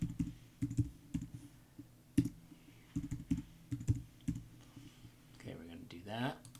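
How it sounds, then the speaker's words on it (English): Someone types on a computer keyboard in quick irregular bursts of light clicking keystrokes, fairly close and quiet, with a brief pause between runs and a short voice near the end. "So I'm just going to put example.com and the password."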